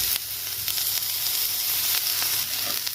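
Maggi noodles stirred and lightly fried in a hot pan, a steady close sizzle with soft periodic scraping strokes from the stirring.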